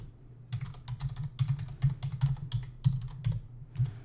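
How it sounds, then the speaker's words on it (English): Keys clack sharply on a computer keyboard in quick, uneven bursts, close up and alone, with short pauses between strokes. "There's my loud typing again."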